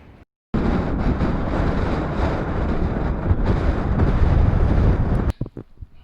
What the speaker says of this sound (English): as soon as I get out of here I'll be pummeled again by the wind